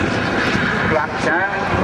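Avro Vulcan bomber flying a low pass with its landing gear down at the Cosford air show, a steady loud engine roar that holds throughout, with a voice talking over it.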